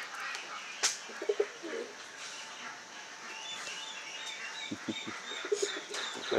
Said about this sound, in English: Favourite pigeons.